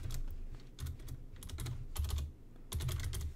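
Quick typing on a computer keyboard, where text is being entered into a web page builder. Bursts of clicky keystrokes arrive in short irregular clusters with brief pauses, close and alone, with no talk.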